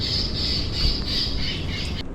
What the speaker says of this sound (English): they were pumping out bird calls. Loud, obnoxious bird calls.